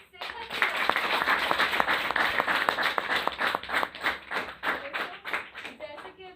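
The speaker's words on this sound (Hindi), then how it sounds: "तो हो जाए जोरदार और शानदार तालियां अपनी सेहत के लिए।" An audience at an indoor gathering breaks into applause, with steady, dense clapping lasting several seconds before thinning out, while voices are heard over it.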